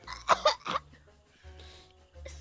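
Three quick, harsh coughs close by from a woman sipping tea on a bouncing train, followed by quieter throat sounds and low background rumble.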